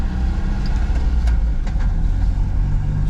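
A Mazda Miata converted from automatic to manual transmission runs with a steady, low engine rumble, close and constant, with no talking.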